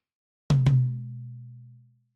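A MIDI tom drum with a trigger layer, struck twice in quick succession, each hit punchy with a long, sustained low ring that decays over more than a second, alone and close.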